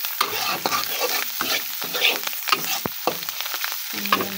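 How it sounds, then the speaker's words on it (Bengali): Coriander leaves fry in a pan while being stirred briskly, a loud close sizzle broken by repeated scraping and clattering strokes of the spatula in an irregular rhythm. "ধনে পাতাটা দিয়ে দিলাম, ভালো করে ভেজে নেব"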